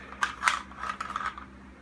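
A Sten SMG bolt is slid into the receiver and lined up with the handle cutout, giving a few light metallic clicks and scrapes at close range, with no talk.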